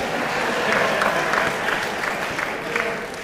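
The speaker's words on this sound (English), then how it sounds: "go ahead, you can clap, it's all right" An audience at a Brooklyn roundtable on Black males claps steadily, a dense, even wash of applause filling the room at moderate loudness, with no voice standing out above it.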